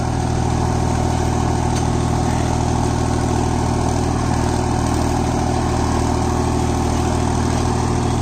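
A Solis 5024S 4WD 50 HP tractor engine runs steadily and loudly up close, a constant low rumbling drone while it pulls a rigid cultivator through a dry field, with no talking.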